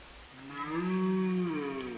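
A European bison (wisent) in Poland lets out a single drawn-out low moo, swelling and then fading over about a second, heard outdoors at moderate distance with no voices over it.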